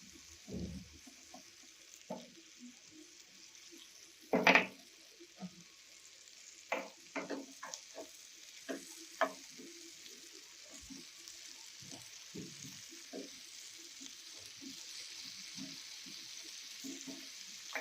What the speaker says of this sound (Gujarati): આપણે બટર સાથે મશરૂમને એકદમ સરસ રીતે ફ્રાય કરી દઈશું.